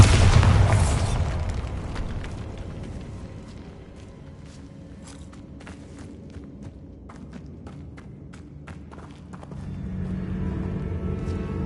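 The Bombarda blasting spell in Hogwarts Legacy goes off as a loud booming burst at the start, rumbling away into a quieter stretch scattered with small debris clicks. A low swell of sound returns near the end.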